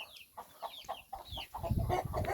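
Several chickens cluck and chatter close by in short bursts, with a low scuffling rumble building underneath toward the end.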